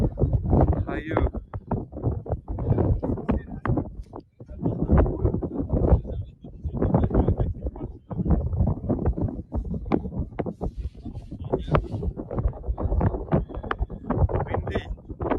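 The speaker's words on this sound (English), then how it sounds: "really windy" Strong storm wind at Mont Saint Michel at night buffets the microphone in loud, rumbling gusts that rise and fall throughout, with a voice partly heard beneath the roar.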